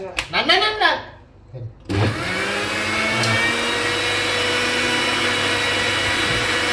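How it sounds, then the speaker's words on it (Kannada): A kitchen mixer grinder starts up after a few seconds of talk and then runs as a loud, steady, close whine while grinding ingredients. "ಸ್ವಲ್ಪ ಸ್ವಲ್ಪ ಗ್ರೈಂಡ್ ಮಾಡಿ ಎಲ್ಲ ಹಾಕ್ತಿದ್ದೀನಿ"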